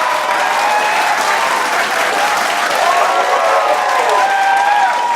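Sustained applause from a large audience, continuous clapping with some cheering and indistinct voices underneath, holding at a steady, loud level.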